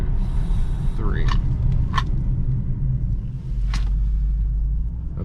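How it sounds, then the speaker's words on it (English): A BMW 650i E64 convertible rolls up to a stop sign and brakes late, its low road rumble running under a few brief chirps and clicks before the car settles, with a voice speaking briefly. "I'm going to do a late brake here, coming up to the stop sign."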